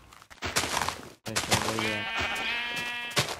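A sheep in the Minecraft video game bleats loudly and close, one long wavering call following a brief thump, with game sounds around it.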